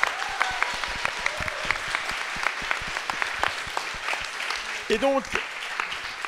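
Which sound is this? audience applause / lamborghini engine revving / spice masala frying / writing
audience applause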